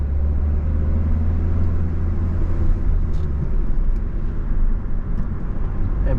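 A car pulls away and gathers speed during a driving lesson on a road with intersections. The engine drones loud and steady, rising slightly as it accelerates over constant road noise, with no speech.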